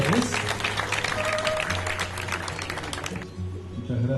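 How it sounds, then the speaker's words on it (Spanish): Audience clapping for a new speaker panel at a municipal and union event, a dense patter of many hands that fades near the end, with a voice talking over it. "Fuerte el aplauso para este nuevo panel."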